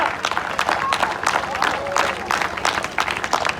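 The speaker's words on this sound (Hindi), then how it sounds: "इनके लिए जोरदार तालियां।" An audience at an open-air theatre claps in a loose, uneven patter, with voices mixed into the clapping.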